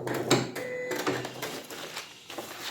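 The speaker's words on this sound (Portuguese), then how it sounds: "eu vou rebater uma costura embaixo e uma costura em cima" A sewing machine running topstitching along a seam, short mechanical bursts of rapid stitching with brief pauses between, close and fairly loud, no talking.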